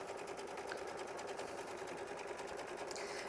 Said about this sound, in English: we're going to go ahead and do the next machine stitch step, which is 24, and that's going to hold everything on the outside edge down nice and smooth